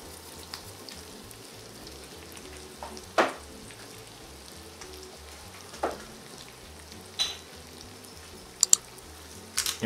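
Bacon and pinhão farofa frying in a pan give off a soft, continuous sizzle, broken by a few sharp scrapes and clinks as the mixture is stirred, with no voices.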